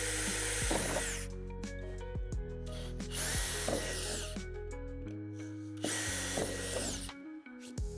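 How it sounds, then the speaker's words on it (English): A power drill bores through the first layer of a metal door on an outdoor storage shed, with a loud sustained whine that stops and restarts several times, and no talking. "then drill them out with the provided drill bit, only going through the first layer of metal"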